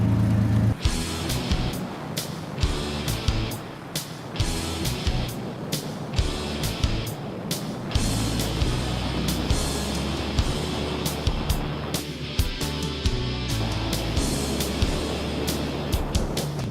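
A lightweight race car of about 2,100 pounds runs at speed on the California Speedway track, with a loud, continuous engine roar, wind rush and repeated sharp clicks and bumps, all heard from inside the car.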